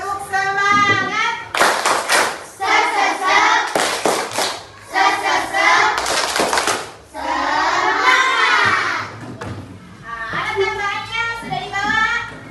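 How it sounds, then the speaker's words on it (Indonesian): Schoolchildren in a classroom perform a spirit clapping chant led by their teacher, loud bursts of rhythmic hand claps trading off with chanted voices in a quick, repeating pattern. "kita tepuk semangat dulu"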